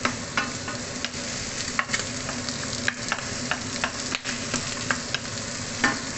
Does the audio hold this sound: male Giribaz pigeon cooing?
no